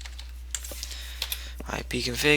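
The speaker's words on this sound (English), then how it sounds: "type in cmd, open up the command prompt, type in ipconfig" Someone types on a computer keyboard, entering ipconfig into a Windows command prompt; scattered light key clicks build into a faster burst toward the end, close and fairly quiet, with a voice speaking over the final moment.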